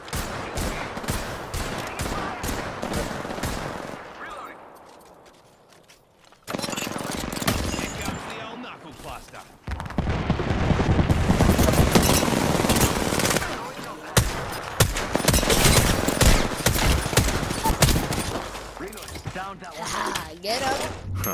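Rapid automatic gunfire from the video game Apex Legends rattles in dense bursts, with a quieter lull midway before heavy firing resumes, loud and close, with a voice talking over the action.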